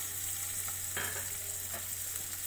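Onions frying and being stirred in hot oil in a pan for an egg omelet gravy, a steady close sizzle with a few louder stirring scrapes and no talking.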